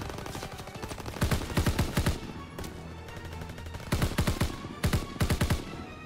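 Bursts of automatic gunfire crackle in the World War II shooter game City of Love, several rapid volleys separated by short pauses, loud and close.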